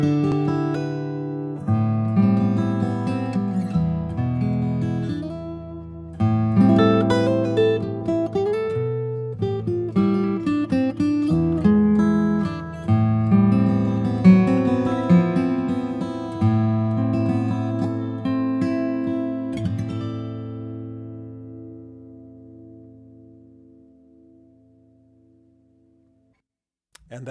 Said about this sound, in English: So that is the sound of mid-side after it's been decoded.